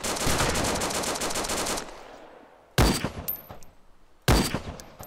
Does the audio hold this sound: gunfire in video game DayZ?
yes